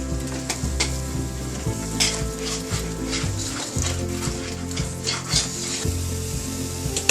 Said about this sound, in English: I'm just coating it with the sauce, and I've just turned off the heat